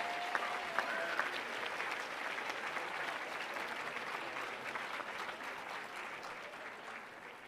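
An audience at a school's closing ceremony and awards presentation applauds steadily, a dense, even wash of many hands clapping that holds at the same level for the whole stretch, with no clear talking over it.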